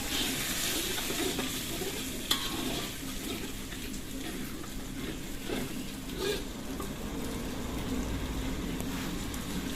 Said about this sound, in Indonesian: Ini Mbak Ica tumis-tumis dulu bumbunya sampai wangi dan harum ya teman-teman